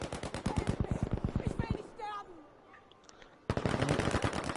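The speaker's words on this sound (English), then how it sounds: "And now we got rockets galore going off" Rapid automatic gunfire and rocket blasts in a video game match, a fast loud burst of shots, a brief lull with faint chirps and a whoosh, then another heavy volley.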